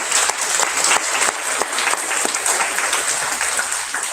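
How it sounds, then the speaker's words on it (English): A summer-school graduation audience applauds its teachers, a thick continuous crackle of many hands clapping, close and steady throughout with no voices standing out. "Let's give them a big round of applause"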